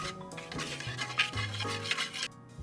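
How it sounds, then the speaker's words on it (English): Dry ingredients for a chickpea flour pizza, including salt and black pepper, being whisked in a bowl: a close, continuous scratchy swishing with uneven rhythmic strokes. "Whisk up all your dry ingredients."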